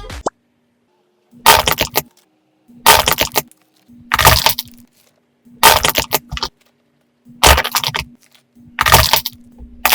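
Crunchy squeezes of a large handmade golden egg stress ball coated in nail polish and built around an empty bottle, six loud crackling bursts at a steady rhythm separated by silence, with no talk.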